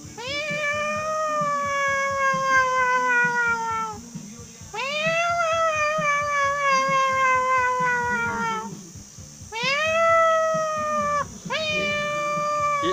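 A voice imitates cats fighting, with long, loud, wavering yowls repeated four times close up, separated by brief pauses.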